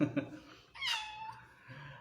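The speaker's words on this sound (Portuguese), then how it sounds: "aqui está minha gata, sempre participando ao vivo." A pet cat meows once, fairly close and clear, after a brief bit of low background sound, during a live online class held in a home.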